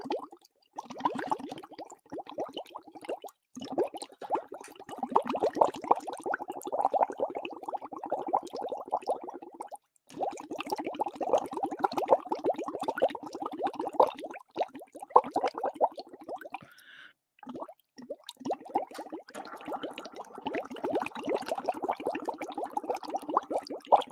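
Bubbles gurgle and plop continuously as air is blown through a straw into water, in long bursts broken by brief pauses for breath.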